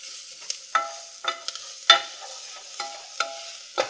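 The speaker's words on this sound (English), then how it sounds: "So we're gonna cook these spices up just to bring up the flavors. Heat them up here with the onions and the garlic." Spices, onions and garlic sauté in a pan for white bean chicken chili, with a series of crisp scraping stirs over a soft sizzle, close and with no talking.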